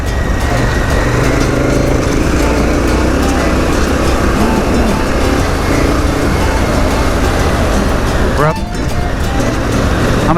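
A KTM 1290 Super Adventure R motorcycle ridden off-road in Peru over square-edged bumps, with a steady loud engine drone and wind rush throughout and a brief rising rev near the end.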